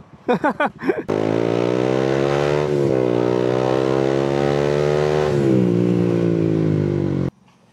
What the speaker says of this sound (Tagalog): sound check natin siya ayon sa pipe na